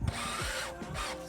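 A power drill drives self-tapping screws into a metal utility trailer being restored, a short, loud, steady whir with a brief change in motor pitch, close up with no talking.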